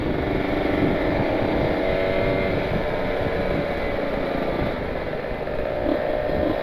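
Kawasaki Ninja 150 RR motorcycle with an aftermarket exhaust, heard on a road ride out toward Ciwidey: a steady, loud, close engine drone held throughout with no talk over it.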